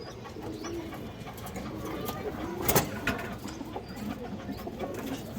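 Giribaz pigeons coo softly around a pigeon seller, with a murmur of background noise and a brief louder bump midway.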